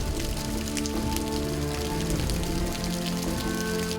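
Heavy rain pours down steadily, a dense, loud, continuous wash of drops drumming on surfaces with no pauses and no voices.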